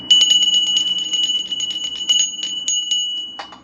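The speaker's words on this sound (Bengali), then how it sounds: "আর আমি একটা ঘন্টা নিলাম" A small brass puja hand bell rung rapidly and continuously, bright and close, with a steady shimmering ring that fades slightly at the end.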